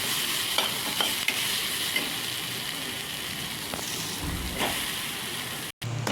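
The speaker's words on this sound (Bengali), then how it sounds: "সবজিগুলো ভাজা ভাজা হয়ে এসছে। এর মধ্যে আমি এবার সেদ্ধ করে আলুটা দিয়ে দেবো" Mixed vegetables frying and being stirred in a pan as boiled potato goes in, a steady close sizzle with scraping stir strokes throughout, no talking.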